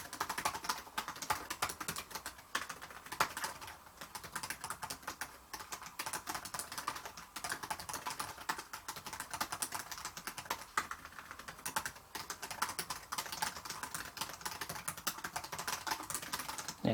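Steady, rapid typing on a 15-inch-class laptop keyboard, light clicky keystrokes continuing throughout with no talking.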